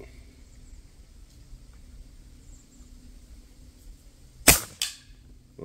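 A single sharp crack from a Black Ops pellet air rifle, followed closely by a second weaker report, breaking a quiet, faint background with no talk.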